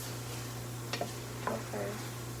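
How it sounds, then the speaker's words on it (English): Peppers stirred with a wooden spoon in a pot for fish soup: a few brief, soft scrapes and knocks spaced apart, faint over a steady low kitchen hum. "Get my wooden spoon and stir my peppers."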